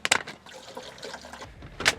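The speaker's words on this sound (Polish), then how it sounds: "Teraz nalejemy wody do ekspresu." Water poured into a coffee machine's reservoir in a truck cab, a short close splashing gurgle with a louder burst at the start and end.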